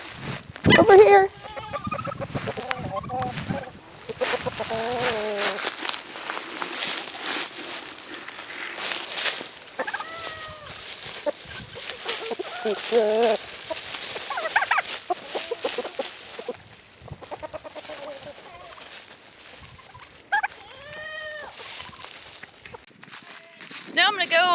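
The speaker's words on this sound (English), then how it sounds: "Look, chickens! Over here!" Garden chickens cluck and murmur close by, scattered bursts of fowl calls mixed with footsteps and rustling while a person speaks over them.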